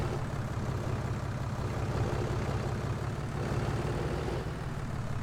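A tractor engine idles with a steady, low, throbbing rumble that holds constant and fairly loud from start to finish, with no one talking.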